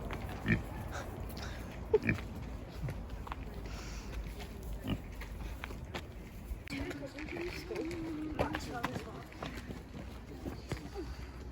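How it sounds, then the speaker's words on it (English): Pigs grunt softly in the distance, scattered snorts and oinks over faint outdoor ambience. "Oh, some pigs."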